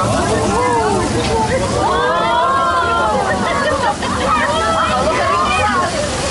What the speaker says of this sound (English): Don't worry about all that water.